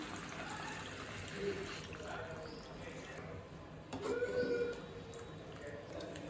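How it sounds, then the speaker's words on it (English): Water splashes and trickles steadily into a pot of cooking chicken curry, with a gurgling burst partway through, against faint kitchen background noise. "add water."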